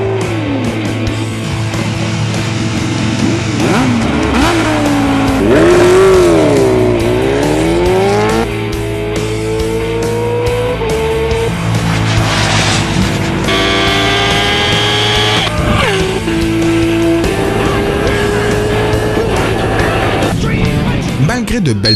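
A KTM 1290 Super Duke R roadster screams through a drag run, its engine note climbing and dropping in repeated rising sweeps through the gears, loud and close, with a narrating voice over it.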